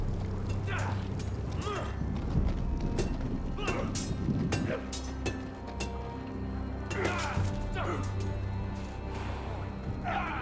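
A horse's hooves clip-clop steadily while riding in a Game of Thrones video game on PS4, moderately loud under game ambience, with in-game voices talking over them.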